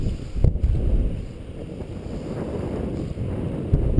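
Cold wind gusts steadily across the microphone while fishing in Northern California, a low, muffled rumble with a couple of sharper buffets and no one speaking.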